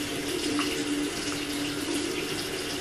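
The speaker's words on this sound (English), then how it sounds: "And I always use cold water on my face and rose water." A bathroom tap runs steadily while a face is washed with cold water, giving a constant close hiss of flowing water with faint splashes and no speech.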